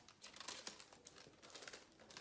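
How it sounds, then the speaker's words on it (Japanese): Paper letter being unfolded and handled, quiet close crinkling and rustling in quick irregular bursts, with no talking. "あ、これも中さんからの手紙だ。"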